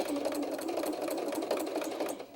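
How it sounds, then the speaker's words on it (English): A sewing machine fitted with a walking foot runs in one steady, fast burst of stitching, sewing binding onto a baby bib, close and loud without pauses. "we're going to just sew that on. And I do use a walking foot at this point"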